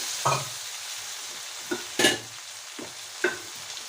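Tomatoes with salt sauté in a pan for pulli kuzhambu, giving a steady low sizzle broken by a handful of short scraping stirs spaced a second or so apart.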